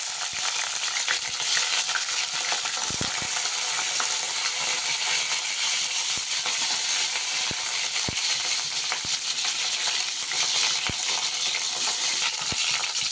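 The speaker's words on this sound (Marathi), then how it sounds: "हे आपण वांग्यांना असा डागण्या पडीपर्यंत तळून घेणार आहोत त्या तेलामध्ये" Brinjal pieces fry in hot oil in a wok (kadhai), a steady loud sizzle that fills the whole stretch, broken by a few faint clinks and stirring taps, with no talking.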